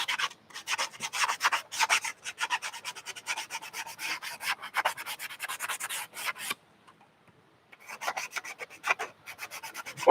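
Rapid rasping strokes of sanding on a Stormtrooper armor part, a dense scratchy back-and-forth rhythm that runs continuously, pauses briefly for about a second, then resumes with more scattered rubs.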